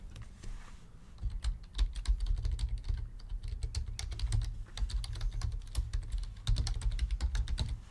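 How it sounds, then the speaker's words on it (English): Fingers type on a computer keyboard in a steady, close clatter of quick keystrokes, with bursts and short pauses across the whole stretch and no voices. "I'm gonna type"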